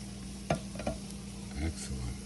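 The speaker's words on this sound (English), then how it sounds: "You hear that sizzle?" Pan bread fries in a hot pan with a steady low sizzle, punctuated by a few soft clicks and scrapes of utensils close by.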